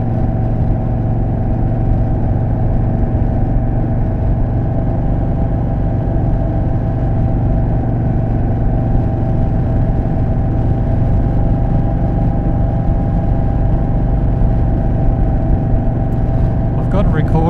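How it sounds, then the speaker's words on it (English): Indian Chief motorcycle engine and exhaust note while riding, a steady rumbling drone with wind roar throughout, recorded close from the rider's jacket, with talking over it. "I've got a recorder in the back of my jacket to try and pick up the exhaust note"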